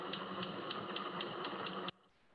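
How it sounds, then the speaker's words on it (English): Dolphin echolocation clicks, filtered and slowed down, come as a rapid, even train of sharp ticks over a steady hiss, then cut off abruptly near the end, leaving faint background. "Those are dolphin clicks. They're echolocation clicks"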